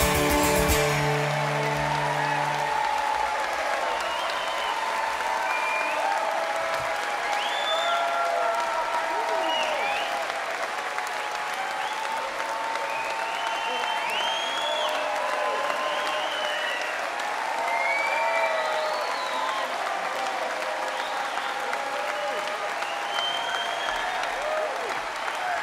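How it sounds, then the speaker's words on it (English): An audience at the Shrewsbury Folk Festival 2017 bursts into sustained applause after the last notes of a folk set fade, the steady clapping mixed with occasional cheers and whoops throughout. "Come on, clap us on."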